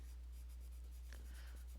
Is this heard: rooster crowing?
no